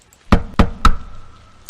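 Three sharp knocks on a door inside a video game, loud and evenly spaced across about half a second, then a short fading tail with no talking.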